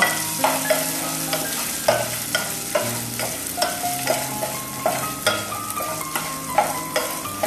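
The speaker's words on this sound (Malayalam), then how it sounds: "ഇനി പച്ചമുളക് കൂടെ ഇതിലേക്ക് ചേർക്കാം നല്ലപോലെ ഒന്ന് ഇളക്കി കൊടുക്കുക" Green chillies frying with ginger in a pan for rava idli, a close sizzle under a steady rhythm of spoon strokes knocking and scraping the pan roughly twice a second.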